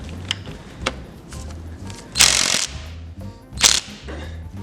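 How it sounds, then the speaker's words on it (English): An impact wrench fires two short, loud bursts to remove a nut during transmission disassembly on a Puch ZA50 moped, close by, with a quieter workshop background between them. "I've found that just using an impact is good enough."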